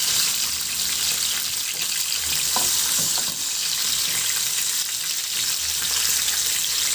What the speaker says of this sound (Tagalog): Magpainit na ako ng mantika at iprito ko muna yung sitaw.